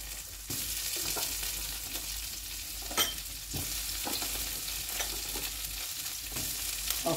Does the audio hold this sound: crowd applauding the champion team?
no